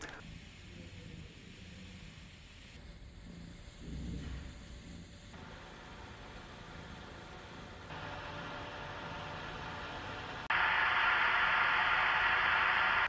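Lian Li UNI FAN TL LCD 140 PC fan running alone in a noise test: a steady, airy broadband whoosh that rises in clear steps as the speed increases, loudest over the final few seconds.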